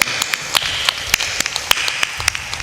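Scattered audience claps at a spiritual discourse gathering, irregular sharp taps rather than a full ovation, moderately near with a soft room background.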